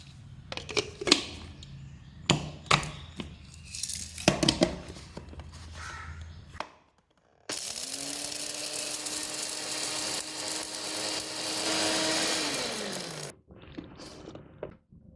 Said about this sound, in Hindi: अब इसको मैं पीस लूँगी।